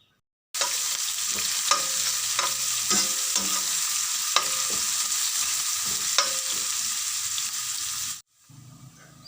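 Onions, curry leaves and ginger-garlic paste fry in hot oil for a biryani, a steady loud sizzle broken by repeated scraping stirs of a spoon, cutting off near the end.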